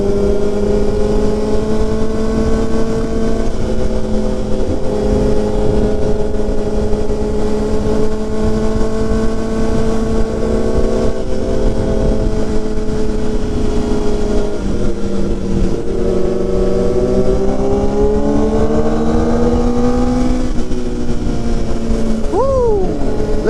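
A Kawasaki ZX4RR motorcycle engine holds a loud, steady high-revving whine at speed, pitch climbing gradually through the run before a brief shift near the end, with wind noise throughout.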